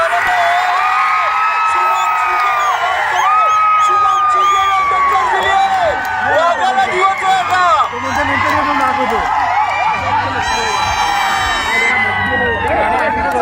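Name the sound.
crowd of spectators cheering at a final match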